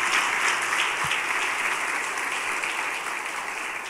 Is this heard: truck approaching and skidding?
no